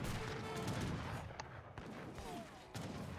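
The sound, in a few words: heavy cannons firing in Age of Empires 3 video game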